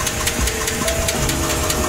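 A new truck's engine runs with a steady, loud rumble and a rapid repeating knock or tick laid over it, continuous for the whole stretch with no talking.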